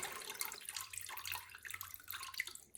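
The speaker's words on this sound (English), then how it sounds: "Get it to drip out as much as possible" Water dripping from a soaked towel into a bucket, a scattered patter of drips and trickles at close range, with no talk.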